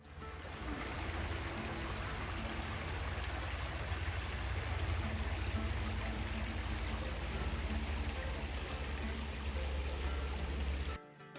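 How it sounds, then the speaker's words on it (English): A small creek flowing over rocks at a trail crossing, with a continuous close rushing and gurgling of water, steady and fairly loud from start to finish with no voices. "So a little creek crossing here."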